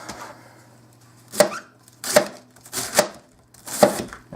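A kitchen knife dices cabbage on a cutting board, four distinct, fairly loud chops spaced roughly a second apart, each a sharp crunching strike, with no talking.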